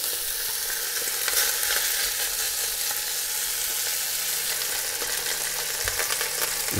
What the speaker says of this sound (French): on va mettre tout de suite les palombes. On va les faire dorer dans toutes les faces